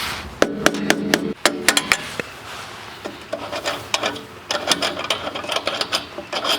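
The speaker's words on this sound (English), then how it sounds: "release the lock nut." Sharp metallic clicks and knocks come from a lock nut being released, arriving in quick irregular bursts with a few louder strikes, close up and fairly loud, with no talking.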